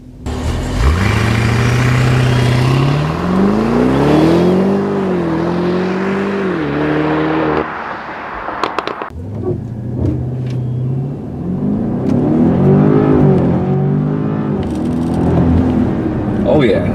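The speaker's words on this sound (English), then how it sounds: "Let's do 0 to 60, see what the performance is like." A 2015 BMW Alpina B6 Gran Coupe with all-wheel drive launches from a standstill to 60 mph at a racetrack, its loud engine climbing steeply through the revs, pausing at a gear change, then pulling hard again.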